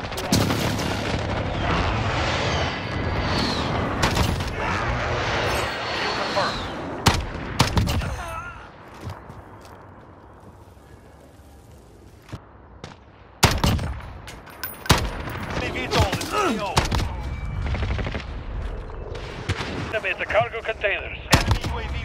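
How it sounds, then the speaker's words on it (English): Heavy gunfire and booming blasts from a precision airstrike in the shooter game Call of Duty: Modern Warfare, loud repeated impacts with a quieter lull midway before more bursts resume. "Precision airstrike, get down!"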